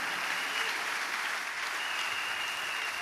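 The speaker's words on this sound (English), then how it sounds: "Alors veuillez applaudir pour le Seigneur." A church congregation claps together in a sustained, even round of applause, heard at moderate distance with a faint tonal whine running underneath.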